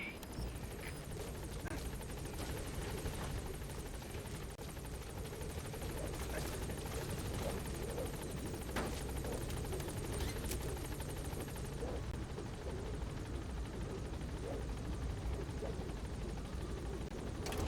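A support helicopter landing at a landing zone in Metal Gear Solid V, a constant loud rotor whir and engine drone filling the whole clip, close and steady with no speech.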